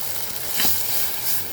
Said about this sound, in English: Now at this time we will add our tomato and pepper.